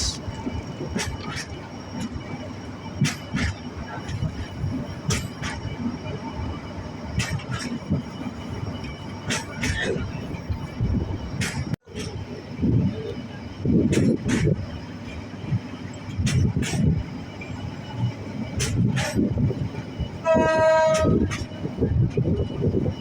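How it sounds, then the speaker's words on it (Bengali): A train on the Chattogram to Cox's Bazar line rolls slowly through hilly country near an elephant overpass, its wheels clacking in a steady rhythm with rumbling carriages, a brief horn blast near the end, and a person talking over it. "পাহাড়ি এলাকা ট্রেন যাচ্ছে একেবারে আস্তে আস্তে"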